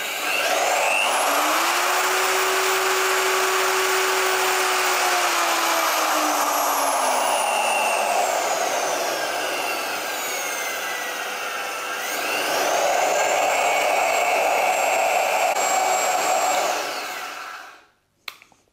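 A modified VEVOR magnetic drill press motor spins up to a high, whining speed and runs steadily, sags and slows midway, then revs up again before cutting off abruptly at the end.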